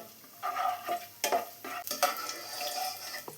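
Raisins fry in hot oil in a pan for Kerala-style semiya upma, with a soft sizzle broken by several quick scrapes and clinks of a stirring spoon against the pan, close and fairly loud.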